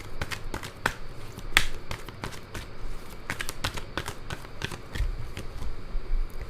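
Tarot cards are shuffled and drawn from the deck, giving soft papery riffles and sharp snapping flicks at an uneven rhythm. The sound is close and moderately quiet, with short pauses between the shuffles and draws.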